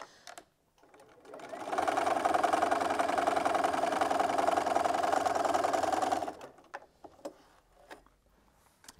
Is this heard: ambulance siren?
no